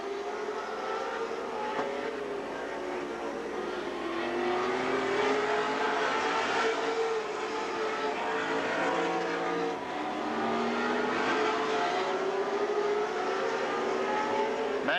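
Stock cars racing around Golden Sands Speedway in Wisconsin Rapids, a continuous roar of several engines whose pitch rises and falls as cars sweep past, steady and loud throughout.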